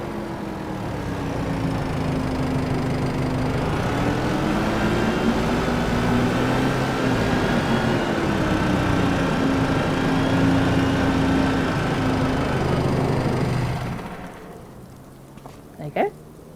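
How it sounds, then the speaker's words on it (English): Tractor engine in the Farming Simulator 25 video game running at a steady drone for most of the clip, with a faint whine riding on top, then cutting out near the end. "We'll pop this tractor in."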